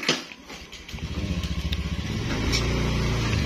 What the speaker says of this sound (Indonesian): iki lho motor Minty dihajar.